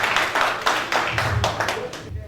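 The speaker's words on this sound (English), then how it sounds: "let's give a round of applause for that" A round of applause at a keynote gathering in Dallas, heard as close, loud, rhythmic clapping, a few hands beating in a steady pulse for about two seconds.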